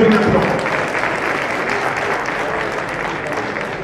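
Audience at a Rana community convention breaks into sustained applause, a dense, steady clatter of many hands clapping that stays loud and even throughout, with a faint voice near the start.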